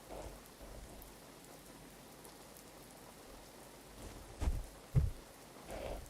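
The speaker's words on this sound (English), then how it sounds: "Hear the rain." Steady rain patters in the X-Plane 11 flight simulator during a Zibo Boeing 737-800X flight, soft and even, with a couple of low thunder rumbles rolling in near the end.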